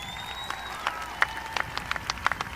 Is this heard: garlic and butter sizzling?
no